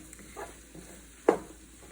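A spatula stirring scrambled eggs with sausage, potatoes and peppers in a pan, soft scraping and faint sizzle ending in one sharper close knock.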